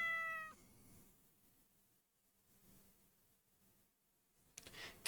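A cat meows once at the start, a short bright call with clear harmonics, followed by quiet room hiss and a faint rustle near the end.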